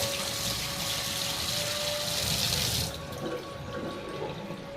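Water gushes loudly from a tap during handwashing, a steady close rush that drops to a quieter flow partway through.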